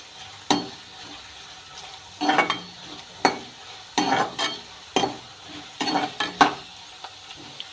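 Urad dal lentils fry in a pan until reddish, while a spatula scrapes and stirs in repeated short bursts over a soft background sizzle.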